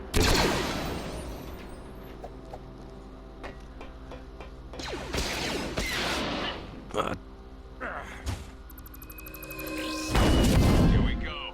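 Blaster shots fired in Disney Infinity 3.0 on Starkiller Base, with bursts of sharp electronic zaps and clattering impacts coming in clusters, loud and close, mixed with game effects.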